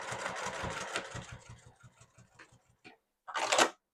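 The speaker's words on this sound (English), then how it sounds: "come right across the base with 1 row of stitching, a 1/4 inch up" Sewing machine running steadily as it stitches a single row across the base of a fabric tote bag, a rapid mechanical chatter that slows and stops, then a short bright burst near the end.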